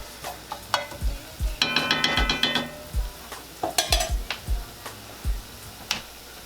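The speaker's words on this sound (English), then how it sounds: "let these onions and this flour and garlic kind of marry together, and then we're cooking out that nasty flour taste" Onions, flour and garlic cooking in a pan, stirred in short bursts: a soft low sizzle under repeated scraping and sharp clicks of a utensil against the pan, close and intermittent.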